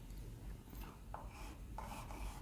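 Faint scratchy strokes of writing a sentence on a classroom board, a few short rubbing marks under a low background hum.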